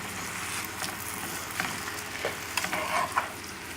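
Crabmeat mixture for crabmeat Rockefeller sizzles softly in a pan while a utensil stirs and scrapes, with a few faint clicks and taps against the pan.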